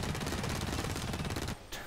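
A submachine gun in the shooter Blacklight Retribution fires a loud, rapid continuous burst for about a second and a half, then cuts off, followed by one short final spurt.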